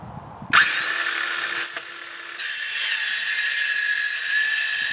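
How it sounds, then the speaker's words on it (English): A battery-powered circular saw spins up with a sharp whine and cuts through a wooden fence cross brace, a close, loud, steady high-pitched cutting roar lasting a few seconds with a brief dip mid-cut. "So I've just got a battery-powered circular saw. I'm going to cut off the end where we marked on our cross brace."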